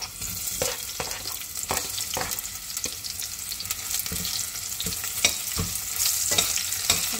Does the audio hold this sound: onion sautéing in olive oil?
yes